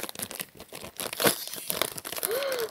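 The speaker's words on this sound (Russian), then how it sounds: "теперь давайте откроем вот этот пакетик" Plastic surprise packet being torn open, with close, quiet crinkling and tearing over a few seconds.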